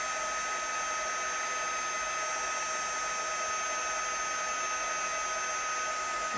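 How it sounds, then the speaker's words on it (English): A heat tool melts silver embossing powder on a card, giving a constant close-up blowing whir with a hissy fan tone. It stays steady and unbroken throughout. "Heating now, so that brings that lovely shiny silver through."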